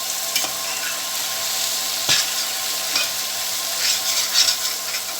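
Okra fries with onion masala in a pan, a steady sizzle broken by several sharp scrapes and clanks of a spoon as it is stirred, close up with no talking.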